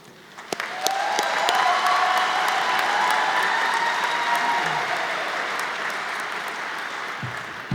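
A commencement crowd at the Johnson & Wales Denver ceremony bursts into loud, dense applause that starts suddenly and holds steady for several seconds, easing slightly near the end.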